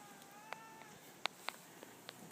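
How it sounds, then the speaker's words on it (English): A cat meows close by in a driveway, several short, high, wavering cries spaced irregularly over a couple of seconds against a quiet background. "This cat is going crazy."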